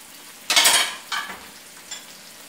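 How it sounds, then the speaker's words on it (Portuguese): Onion frying in oil in a pan while making feijoada gives a few soft bursts of sizzle and stirring, close and fairly quiet, the first the loudest, followed by two shorter ones. "E vou fritar essa cebola aqui até ficar bem douradinha, nesse óleo aqui"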